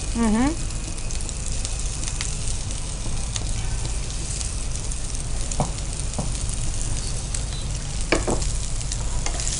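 Fish coated with turmeric fries in a pan with a dense, constant sizzle, stirring scrapes and a few louder spits punctuating it, while a voice is briefly heard near the start.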